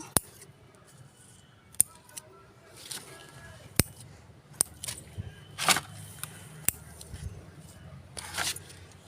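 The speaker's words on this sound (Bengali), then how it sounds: "আমার সব গাছের গোড়ার পাতাগুলো কেটে দিচ্ছি" Scissors snipping off leaves at the base of plants, giving sharp isolated clicks and snips at irregular intervals, close and crisp over a quiet background.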